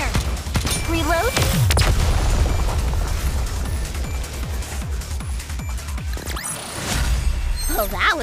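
Cannon fire in a naval battle video game, repeated booming shots and bursts over a continuous dense rumble of battle, with a voice calling out briefly.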